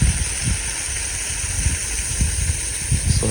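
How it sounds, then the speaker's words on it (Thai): A small waterfall flows on the Mae Nam Noi river in Kanchanaburi, a close, constant rushing of water with gurgling pulses and splashes and no clear talking. "ครับน้ำตกสวย"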